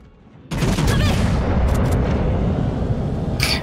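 Naval gunfire and shell explosions in a World of Warships clan battle against a Cleveland cruiser, an abrupt loud boom followed by a sustained rumbling roar of impacts and blasts, no talk.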